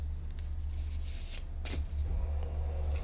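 Soft riffling and flicking of tarot cards being shuffled, a few quick bursts over a steady low hum, with no talking.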